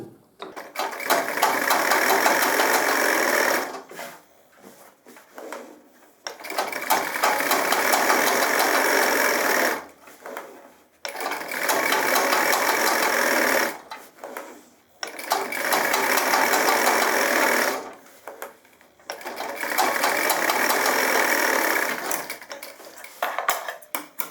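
A sewing machine stitches the body of a pair of gents' trousers in five loud, whirring bursts of several seconds each, separated by short pauses.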